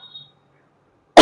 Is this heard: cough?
yes